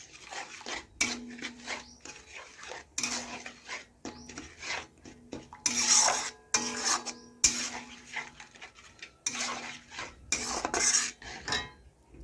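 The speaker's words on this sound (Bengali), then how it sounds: "গুড় দিয়ে দেখুন আমি খুরপি দিয়ে ভালোভাবে নাড়াচাড়া করে মিশিয়ে নেব আনারসের সাথে।" Jaggery being stirred into pineapple chutney with a spatula in a pan, giving repeated scraping and clinking strokes in bursts across the whole stretch, fairly close and alone.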